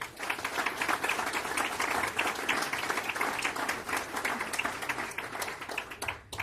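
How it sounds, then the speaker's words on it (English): Audience applause for a speaker named Linda at a Kansas evening event on the Health Care Compact, a dense steady wash of clapping that carries evenly for several seconds before tapering off near the end. "Let's give Linda a big round of applause"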